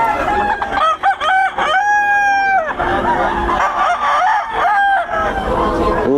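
A rooster crows loudly and close by at a festival expo, with chickens clucking around it and faint crowd murmur in the background.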